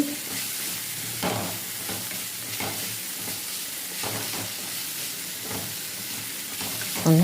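Okra is stir-fried in a pan with a constant soft sizzle broken by repeated scraping strokes roughly every second, and a louder clink right at the end.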